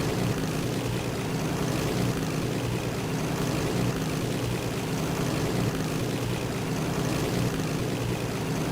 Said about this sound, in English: God, our airplane's slow.